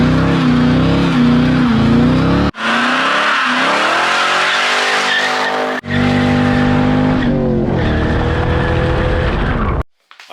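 A lowered 1998–2004 C5 Corvette is driven hard, its V8 engine loud and close, revving up through long pulls with brief drops at the gear changes and a final cut as it backs off.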